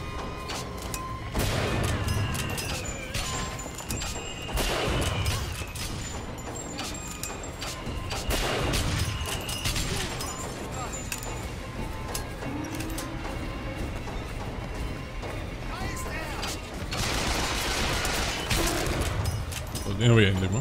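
Gunfire in BioShock Infinite rattles in repeated bursts with booming impacts across a noisy firefight, while a voice talks over the action at times.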